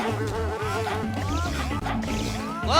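A swarm of bees in the Ninjabread Man video game drones loudly and without pause, its wavering buzz rising and falling in pitch over nearly three seconds, with no voices present.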